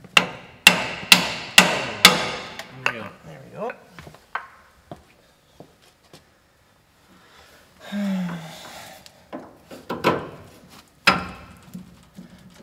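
Sharp metal hammer blows ring out on the kingpin of a 1932 Ford BB truck, a quick run of evenly spaced strikes followed by scattered clanks, a short mechanical squeal and a few more hits.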